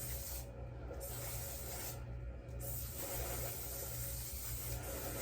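A steady fine mist hiss from a cosmetic setting spray bottle, a close continuous airy spritz running through the whole stretch with slight pauses.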